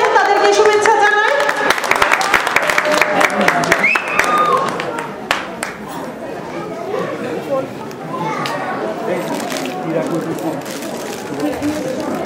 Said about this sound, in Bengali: আমরা সবাই করতালির মাধ্যমে তাদেরকে শুভেচ্ছা জানাই।